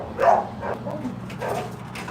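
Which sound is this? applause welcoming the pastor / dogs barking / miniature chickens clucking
dogs barking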